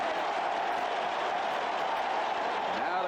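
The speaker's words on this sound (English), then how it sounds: "Now the crowd comes to life to cheer the defense." A stadium crowd at a 1989 pro football game, the L.A. Rams at Minnesota, cheers the defense with a steady, unbroken roar that fills the whole stretch.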